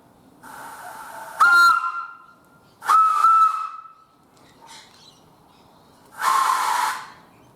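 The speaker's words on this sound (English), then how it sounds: "back for round 2 with the 3-chime steam whistle" A three-chime steam whistle blown on compressed air from tanks sounds three loud, hissing chord blasts of about a second each, with a faint short toot between the second and third.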